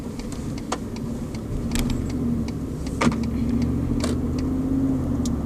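A 2015 Ford F-150 XLT FX4 pickup truck's engine hums steadily as it pulls onto a road, with light clicks and rattles over a low, continuous road rumble.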